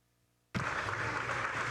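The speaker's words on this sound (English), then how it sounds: "Ladies and gentlemen, please join us in a round of applause for these veterans." Sudden burst of audience applause at an Army infantry graduation ceremony at Fort Benning, honoring veterans; dense crowd clapping starts abruptly after near silence and continues loud and steady.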